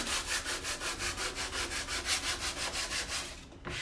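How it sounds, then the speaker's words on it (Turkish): Sandpaper rubs rhythmically back and forth across a BMW E36 car surface in steady, even strokes, close and continuous, ending with a brief scrape. "Şu zımparayı yapıyorum ki."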